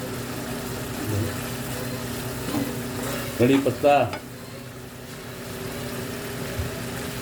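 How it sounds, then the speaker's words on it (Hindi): Curry leaves frying in onion-tomato masala for black chickpea curry, a steady sizzle with a brief burst of crackling spatter and stirring scrapes in the middle, close to the pan. "कड़ी पत्ता डाला है, और जी कड़ी पत्ता इसमें पकेगा"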